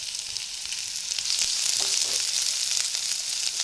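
Chopped onion tipped into a pan where ginger, garlic and green chilli are already frying for a chilli idli masala, giving a steady, close, bright sizzle that swells slightly louder partway through.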